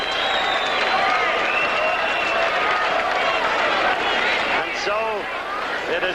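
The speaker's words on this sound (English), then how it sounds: "It ends for Earnie Shavers with the crowd standing and cheering his courage" A big boxing crowd at Caesar's Palace roars and cheers on its feet after a heavyweight bout, a dense, sustained wall of cheering and applause with talk audible over it.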